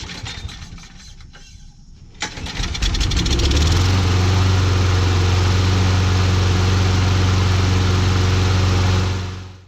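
A Craftsman push mower's Briggs and Stratton engine, with a freshly assembled carburetor, is pulled over and catches, rising into a loud, steady, close idle that runs on alone.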